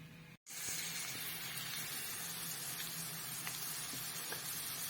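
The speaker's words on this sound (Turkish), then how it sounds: "Şimdi soğanı kavrulsun." Steady, dense sizzling of onions and peppers frying in hot olive oil, continuous and close, after a brief cut near the start.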